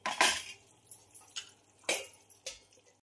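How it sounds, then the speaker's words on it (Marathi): A metal lid is set back onto a cooking pot in a home kitchen, giving several sharp clanks and clinks spaced out over a few seconds, close and moderately loud. "मी आता परत झाकण ठेवते त्यावर"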